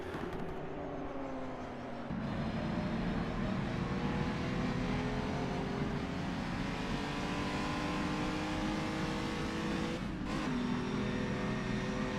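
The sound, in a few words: race cars driving past at Dundrod circuit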